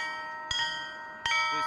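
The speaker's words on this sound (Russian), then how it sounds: "Качество и звон донецких колоколов настоятель храма отец Георгий проверяет лично." Newly cast church bells from a Donetsk foundry, made for Donbas churches, struck twice about three-quarters of a second apart, each stroke ringing out with bright sustained overtones over a quiet background.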